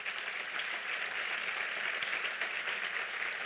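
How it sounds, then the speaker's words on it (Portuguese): Steady wash of audience applause at a church gathering, dense and even throughout without distinct individual claps standing out, no talk over it. "É para Jesus esse aplauso?"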